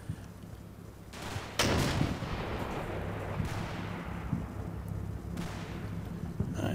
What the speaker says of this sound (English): I think that's German mortar fire there